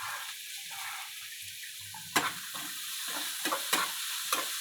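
Onions sprinkled with salt sauté in a pan, a soft continuous hiss with a few light spatula taps and scrapes, fairly quiet and close.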